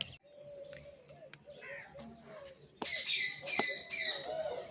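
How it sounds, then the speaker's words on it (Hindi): Pigeons cooing at a relative's home in a village, soft low repeated coos with brighter bird chirps joining midway, close by and without talk. "ये फूफो जी के घर बहुत प्यारे कबूतर हैं।"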